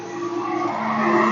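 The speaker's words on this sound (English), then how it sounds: "Let the beer truck go by" Beer truck driving past on the way to a country club, a loud steady rumbling and hissing road noise that builds slightly as it goes by, with no talk.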